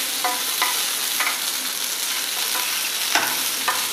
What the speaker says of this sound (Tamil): உங்களுக்கு அந்த சவுண்டு வரும் அந்த பொரியும் போது.